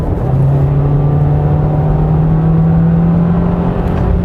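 A 2020 Volkswagen Jetta 1.4 TSI gasoline engine revs under full acceleration, a loud steady drone with a rising tone, heard from inside the car on winter tires.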